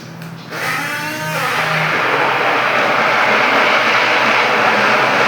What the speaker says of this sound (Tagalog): Guys, i-blender na natin